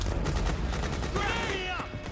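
Rapid gunfire in Metal Gear Solid 4 fills a short burst of combat, a dense continuous volley of close shots with a ringing tone rising near the end.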